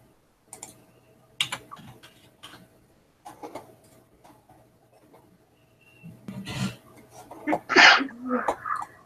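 A single sharp sneeze bursts out near the end, close and fairly loud, after a stretch of faint rustling, rubbing and scattered ticks in a quiet room.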